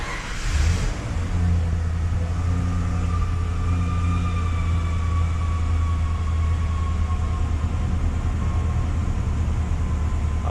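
A 1995 Ford F150 engine starts and settles into a steady, smooth idle, a loud low rumble with a faint whine over it, holding constant throughout with no talk.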